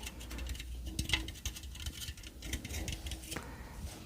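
Light, rapid tapping on a small metal object, close and soft, with irregular clicks and taps coming in uneven bursts throughout.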